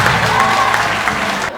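Women at a March 8 celebration at a lycée in Thiès clap for themselves, a full, loud round of applause with light crowd noise that cuts off abruptly at the end.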